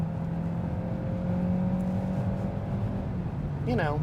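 A 2025 Hyundai Santa Fe Hybrid at full throttle on the highway, heard as a steady, loud engine drone with a faint, constant whine, holding even throughout.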